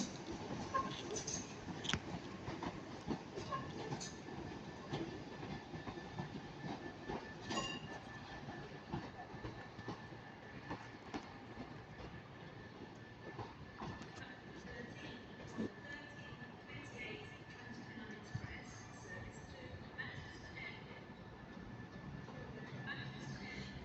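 A Northern class 323 train at Manchester Piccadilly station, giving a steady faint rumble of wheels on rails with scattered clicks and a thin high squeal throughout, no voices.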